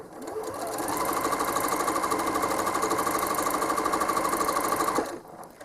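Home sewing machine machine-quilting a quilt, a steady fast whirring motor with rapid even needle chatter running continuously for about five seconds, close and loud, then stopping abruptly.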